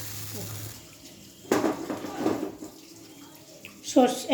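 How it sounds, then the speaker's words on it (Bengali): Water is poured into a cooking pot over ginger and garlic, giving a splashing, gurgling rush that rises and fades over a few seconds, with a voice speaking near the end. "আমি এবারে জলটা ঢেলে দেবো।"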